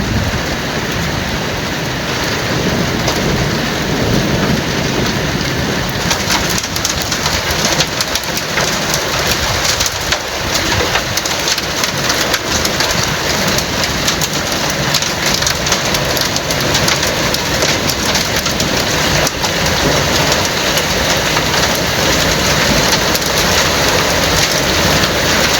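Heavy rain, with hail reported in the storm, pours steadily and loudly onto surfaces. The dense, unbroken roar holds throughout with no voices.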